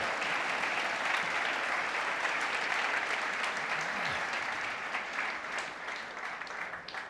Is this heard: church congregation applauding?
yes